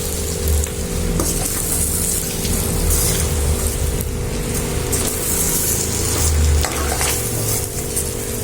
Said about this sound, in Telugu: ఇప్పుడు ఎగ్స్ వేసుకుందామండి. చిన్నగా కలుపుకోవాలండి.